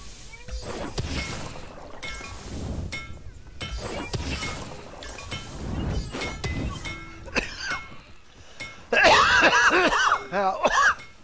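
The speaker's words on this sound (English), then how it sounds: "Cough." A person in a house coughs several times in rough, irregular bursts with some throat clearing, followed near the end by a louder clatter of sharp clinking noises.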